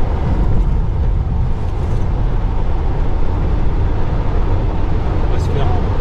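A Tesla sliding in a drift on Michelin tyres around a track, heard as a loud, steady broadband roar of tyre and road noise that holds unbroken throughout.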